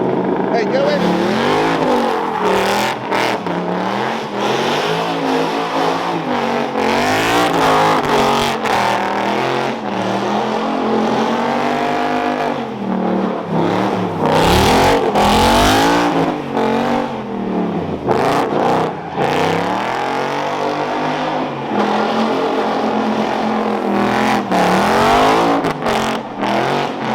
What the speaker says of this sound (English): as I'm doing donuts, I'm realizing how much more controllable the car feels now that they are definitely spinning at the same rate